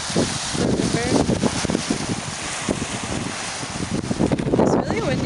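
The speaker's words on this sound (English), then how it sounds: "It's really windy and kind of cold" Gusty, cold wind buffets the microphone in uneven rumbling bursts while a person talks over it outdoors along the river at Fort Niagara.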